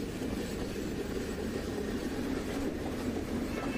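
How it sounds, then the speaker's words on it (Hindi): Passenger train wagons rolling along the track as the train slowly gains speed, a steady loud rumble with a low drone from the wheels and no pauses. "अब ट्रेन में रफ्तार धीरे धीरे आ रही है"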